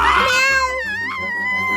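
A cartoon character voices a loud, drawn-out cat meow, a human imitation of a cat, heard alone and close in a Hindi-dubbed kids' cooking challenge cartoon.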